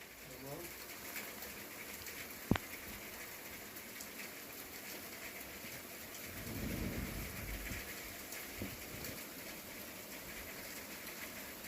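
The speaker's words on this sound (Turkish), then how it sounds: "Sesli video da, Yağmurun sesi duyulsun diye." Steady rain falls outdoors, a faint continuous hiss with a sharp crack early on and a brief swell of low rumble midway, with no talking.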